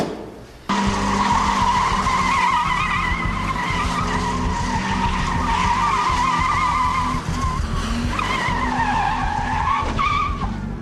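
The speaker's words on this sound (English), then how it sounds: "Reported a vehicle doing donuts in the car park behind the Shire offices in Penhope Road." A car doing donuts in a council car park, tires skidding and squealing loudly and continuously with a revving engine for about ten seconds, close by.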